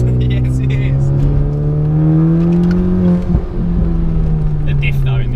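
A Honda Civic Type R engine hums in a steady drone that climbs slowly in pitch, heard from inside the car at moderate loudness with no clear talk over it.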